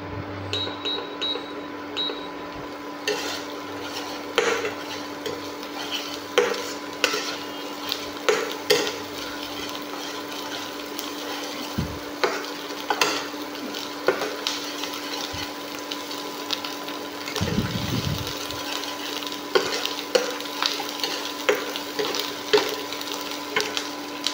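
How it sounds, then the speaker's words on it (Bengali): Pabda fish curry being stirred and sautéed in a pan, a soft continuous sizzle broken by scattered clinks and scrapes of a utensil against the pan, with a couple of louder knocks. "এটাকে ভালো করে কষিয়ে নেব।"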